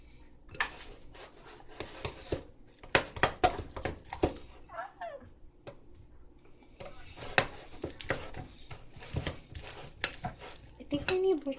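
Crunchy slime being mixed with foam beads in a bowl, giving repeated close squelching, crackling and clicking bursts in an uneven rhythm, with a short quieter pause in the middle.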